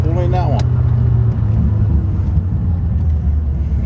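Low rumbling of a manual car engine as the clutch is let out, a steady close drone rising slightly, with a voice speaking over it at the start.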